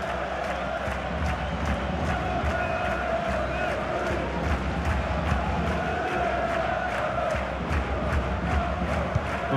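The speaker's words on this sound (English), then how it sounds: "The crowd certainly think so. Just listen to that noise." Stadium crowd noise in the FIFA 23 football video game during a Superliga match between FC Argeș and AFC Chindia, a steady roar of cheering and chanting with rhythmic clapping throughout.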